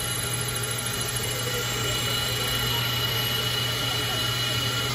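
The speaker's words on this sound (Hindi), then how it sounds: "वो देखो हमारी चाबी भाई बन रही है मस्त मशीन से वो भी" Key cutting machine shaping an ordinary house key, a steady loud mechanical whir with a constant low hum running throughout, close by.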